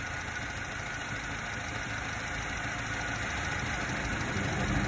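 Subaru Sambar engine running steadily during carburetor tuning, a continuous mid-pitched idle with a slight sag as it bogs down, close and alone with no talk.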